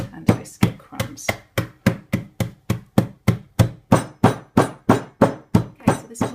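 Biscuits bashed into crumbs for a no-cook chocolate broken biscuit cake, a steady series of about eighteen loud, close thuds at an even rhythm, each a sharp hammer-like knock with a short crunchy tail.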